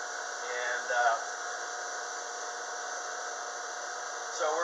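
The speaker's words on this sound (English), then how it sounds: "Once that motor is already started, we can start our slower motor here." A motor runs on a 5 HP rotary phase converter fed by 230 V single phase, giving a steady mechanical hum with a constant tone that holds for the whole stretch, swelling briefly near the start and again at the end.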